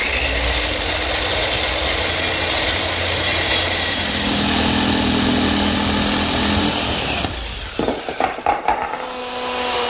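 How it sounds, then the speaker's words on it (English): A power tool cuts a through hole in wood for a router plate, a loud steady whine that shifts pitch midway, then stops abruptly, followed by a few clattering knocks. "Now let's cut a hole for the router plate."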